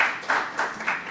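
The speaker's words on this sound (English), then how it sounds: "a big round of applause for him" Audience applause for a speaker at a business talk, a short wash of clapping that swells in repeated pulses, fairly close and steady with no talk over it.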